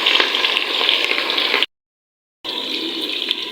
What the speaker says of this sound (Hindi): और इसी घी के अंदर मैं डाल रही हूँ प्याज